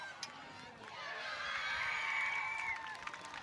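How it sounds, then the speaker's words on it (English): Spectators cheer and shout at a schools rugby festival match as St. Joseph's College score, a sustained crowd roar rising in the middle and holding, with some excited young voices amid the noise. "Big cheer for St. Joe's."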